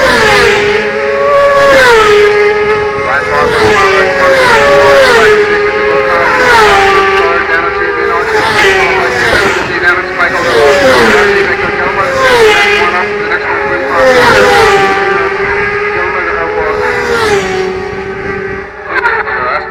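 Several 600cc superbikes accelerate up a hill in a road race, their high engines wailing and climbing through gears one after another as they pass close by, with a commentator talking over them.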